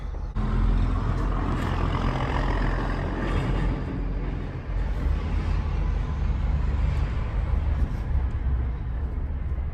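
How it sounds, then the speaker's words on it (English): A logging truck rumbles past on a road with a heavy, low engine drone that stays loud and close, with a brief hiss partway through. "Here comes a logging truck."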